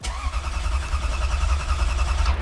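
A Toyota 3UZ V8 swapped into a Scion FR-S cranks and catches, settling into a loud, steady, close idle with a deep rumble throughout.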